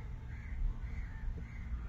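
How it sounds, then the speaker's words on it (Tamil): Crows caw repeatedly over a fishing boat off Malpe as the crew haul in the net, the birds snatching small fish; the calls are moderately loud over a steady low boat rumble. "பறவைகள் அந்த சின்ன சின்ன மீன்களை பிடிக்கிறதுக்கு எவ்வளவு பறவைகள் பாருங்க"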